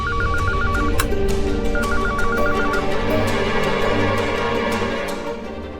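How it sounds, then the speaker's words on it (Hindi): A telephone rings in two bursts of rapid warbling trills with a pause between, over a busy background hum of room noise. "कहाँ का फोन बज रहा है?"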